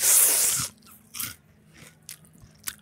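Crispy fried chicken skin being bitten, giving one sharp crunch followed by several softer crunchy chews, close and without talk.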